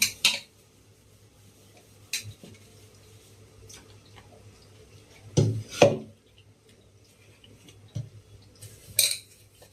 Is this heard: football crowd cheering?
no